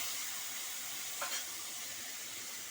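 Bottle gourd and prawns sizzle steadily in a pan as water goes in, a continuous hiss with one short, sharper spurt midway.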